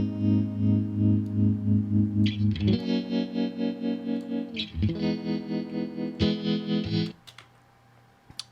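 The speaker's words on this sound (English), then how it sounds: "the tremolo is going to be a little bit more harsh than the vibrato" Guitar played through Helix Native modulation effects, alternating between a subtler vibrato and a harsher tremolo, with sustained chords pulsing in a wavering rhythm and several sharp strummed changes. The effect is in mono, with no talking.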